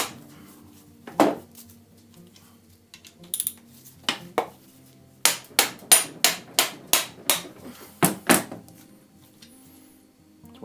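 Impact hammer struck against Honda VF750F engine bolts, sharp metallic blows: a few scattered hits, then a rapid regular series of about ten loud strikes, close and ringing.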